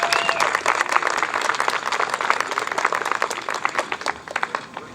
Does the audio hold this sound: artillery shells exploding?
no